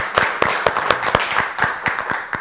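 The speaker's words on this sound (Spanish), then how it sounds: "un aplauso para Andrés Ariza Villazón y José Mario Yate" Studio audience applauds for two vallenato musicians on a TV show, a steady wash of clapping with sharp individual claps standing out, fairly close and without talk.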